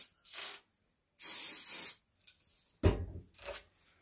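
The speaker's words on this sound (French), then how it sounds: "je me munis de mon spray démêlant. Je vaporise." Detangling spray misted onto a dog's coat during home grooming: a few short pumped hisses, one long burst in the middle and brief spurts after it, close and fairly quiet with no voices.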